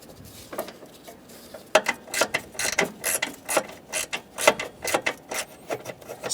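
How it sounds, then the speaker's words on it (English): A ratchet snugs a bolt on the upper transmission mount of a 2003-2007 Honda Accord 3.0L V6, giving a close series of rhythmic clicking strokes, a dozen or so evenly spaced pulls with no talking. "Snug the bolt down, but don't make it so tight that you can't move the mount around"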